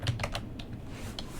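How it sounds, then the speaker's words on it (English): A few quick keystrokes on a computer keyboard while entering a command, crisp close clicks in an uneven burst with a brief pause and one last tap, quiet and without speech. "So now if we type in winver,"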